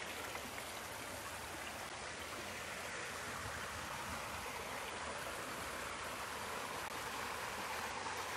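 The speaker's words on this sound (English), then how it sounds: "definitely watch that water as it flows." Stream water flows steadily along a trail in Bloodroot Valley, a constant close rushing wash with no pauses and no voices.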